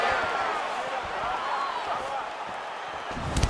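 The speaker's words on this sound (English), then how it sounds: "can you hear the reaction from the crowd as another outside leg kick lands?" A crowd roars in the UFC video game as an outside leg kick lands during a simulated UFC 292 Zhang vs Lemos bout, a steady broad swell of cheering that runs throughout beneath a commentator's voice.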